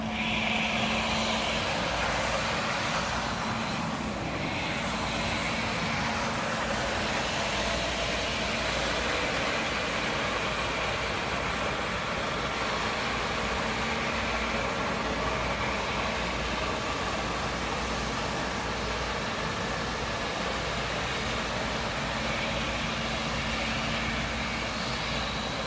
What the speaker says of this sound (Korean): 흡입 모터만 작동시켜 흡입만 하실 수가 있습니다